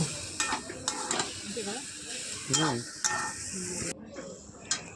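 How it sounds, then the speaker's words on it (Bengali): Taro and potato with salt and turmeric are stirred and sautéed in a pan, a soft sizzle under scraping spatula strokes and clinks, with a voice speaking intermittently over the cooking. "আর দেবো একটু লবণ তো দিয়ে ভালো করে এবার এটাকে আমরা একটু কষাতে থাকবো"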